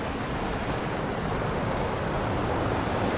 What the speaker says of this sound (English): We are so close to the waterfall.